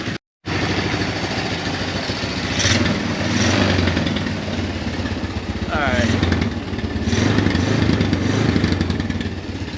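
An old Honda motorcycle engine runs steadily close by after a brief silence, a loud, even mechanical chug with slight rises in revs, while someone talks over it.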